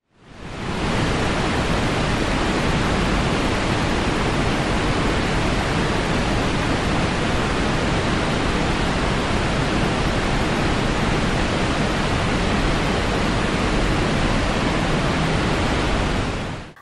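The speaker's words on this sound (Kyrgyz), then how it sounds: "шаркырап аккан суунун үнүн уккандан кийин" Rushing, flowing water makes a dense, unbroken hiss at a steady level. It fades in at the start and fades out at the end, with no voices.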